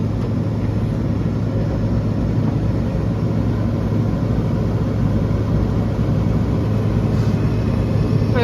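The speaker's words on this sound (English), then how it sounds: "Perfect, now the trailer's going to come down." A John Deere 6R 110 tractor lowering a tipping trailer after dumping soil, its engine holding a loud, steady, close drone with no break for the whole stretch.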